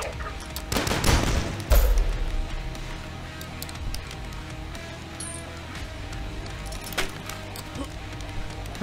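A rivet gun fires in the video game DUSK, with a few loud, sharp shots and impacts clustered near the start, followed by quieter game ambience and scattered clicks.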